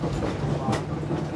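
A passenger train rolls along a scenic railway, its steady low rumble and faint rhythmic clatter continuous throughout, with a brief hiss partway through.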